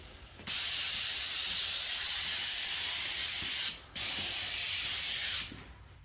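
A paint sprayer hisses loudly in two long continuous bursts, spraying primer onto walls in a room with no floor or ceiling finished, with a brief gap between the bursts.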